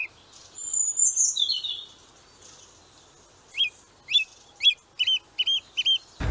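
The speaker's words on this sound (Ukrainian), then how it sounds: "А вон шпаки, зараз я їх зніму." Common starlings in a botanical garden give a few drawn-out whistles, then a series of short, sharp chirps repeating in a quick rhythm, clear against quiet surroundings.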